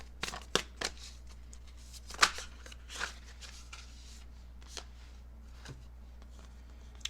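Tarot cards are shuffled close by in quick, crisp riffles and taps, a scattered burst of soft papery slaps and flutters over a quiet room hum.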